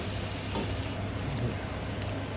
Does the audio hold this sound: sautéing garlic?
yes